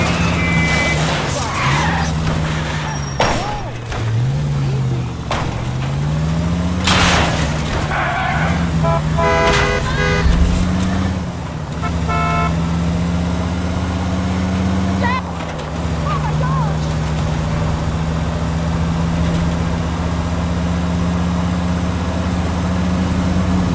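A video-game car chase in L.A. Noire: engines drone and shift pitch continuously, with tire skids, horn toots and crash thuds scattered over the pursuit, and character voices speaking now and then.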